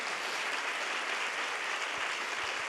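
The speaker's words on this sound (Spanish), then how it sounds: "También dele un aplauso al Señor" A church congregation applauding for the Lord during a service, a steady, even hiss of many hands clapping, moderately loud and continuous throughout.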